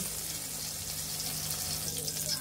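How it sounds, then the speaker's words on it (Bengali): Eggplant slices frying in oil give a soft, steady hiss of sizzling that stays faint and even throughout, with no talking. "আমাদের বেগুনগুলো ভাজা ভাজা হয়ে গিয়েছে।"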